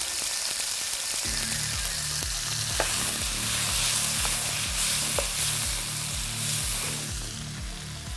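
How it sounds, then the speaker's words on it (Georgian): Pork pieces frying in hot oil, a steady loud sizzle and crackle with stirring scrapes throughout, no talk. "ზეთი გაცხელდა. დავიწყებ. ხორცს ჩავყრი, მარილს მოვაყრი."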